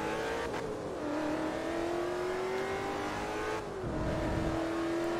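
A race car engine in Forza Motorsport 3 holds a steady loud drone with a slowly rising pitch, drops briefly as a gear shift hits around the four-second mark, then climbs again, with road and tire noise throughout.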